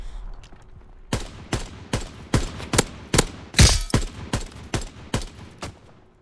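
A Holzpistole machine pistol fires in Call of Duty WW2 multiplayer, giving a steady run of about a dozen close, punchy shots at an even rhythm, with one louder burst partway through.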